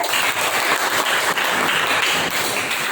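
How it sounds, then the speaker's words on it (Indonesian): A classroom of students applauds for a classmate named Nasika, with steady, dense clapping that runs evenly and fairly close throughout. "Tepuk tangan buat Nasika"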